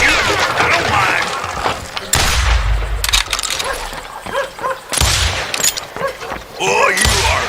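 Gunfire in the Wild West shooter Call of Juarez: Gunslinger, with repeated sharp gun blasts in rapid clusters and mechanical clatter over busy game noise, loud and close.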